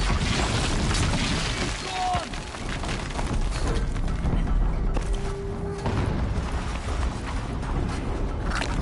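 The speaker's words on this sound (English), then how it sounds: "An explosion." Explosions in the video game Horizon Zero Dawn during a fight with machines: rumbling bursts and clattering debris with mechanical whirs, a loud dense wash that swells and dips across the stretch.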